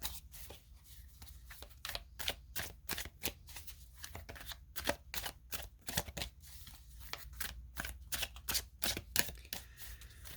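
Oracle cards being shuffled in close, quick bursts of riffling and slapping, repeating steadily with brief pauses between handfuls, quiet and alone.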